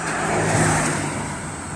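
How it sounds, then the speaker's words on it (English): A Ford FG Falcon car engine starts and settles into a steady, loud idle rumble with broad mechanical noise throughout, heard alone. "Car starts."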